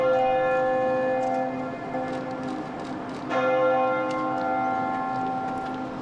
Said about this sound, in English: 72 bells ringing out over North Adelaide